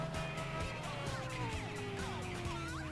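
A Ferrari engine in Test Drive Unlimited 2 drones steadily while climbing a mountain slope, its pitch sliding gradually downward as the car struggles, heard continuously at moderate volume with a low rumble beneath.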